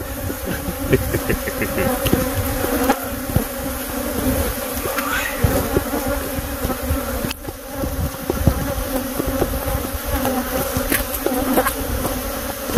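Dense, continuous buzzing of many bees swarming around a huge hive on a property, loud and steady throughout with no voices over it.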